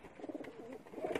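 Pakistani high flyer pigeons belonging to a loft of racing birds coo softly, a few low rolling murmurs rising and falling over about a second, close by and fairly quiet.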